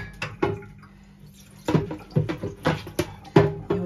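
Water splashes from a running kitchen tap held with a finger in uneven bursts, with clattering and rinsing noises as something is washed under the stream nearby.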